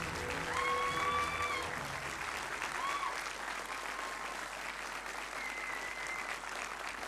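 Applause from the audience at a school awards ceremony, a sustained patter of many hands clapping at moderate distance, steady throughout, with a few faint tonal sounds near the start.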